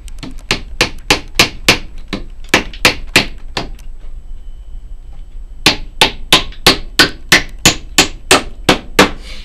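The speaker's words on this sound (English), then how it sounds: "I like the other hammer better." Sharp, loud hammer blows drive nails into a wooden beehive bottom board, in two rapid bursts of about nine strikes each separated by a short pause, with no talking.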